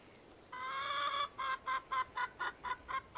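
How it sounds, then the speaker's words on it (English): Chickens cluck close by: one long drawn note, then a steady run of short, evenly spaced clucks, clear and alone without talk. "Yeah, a chicken! Not only one, we have chickens!"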